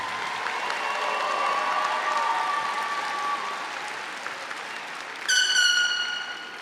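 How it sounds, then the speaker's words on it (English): Applause for honor graduates at a 2025 high school graduation ceremony: a sustained, dense crowd clapping that eases slightly, then swells again near the end alongside a brief tonal horn-like blast. "Please give our honor graduates a round of applause."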